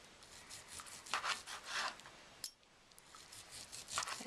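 Knife slicing a roasted pork tenderloin into thin pieces, a series of soft rasping strokes close by, rising and falling with a brief pause midway, no talking.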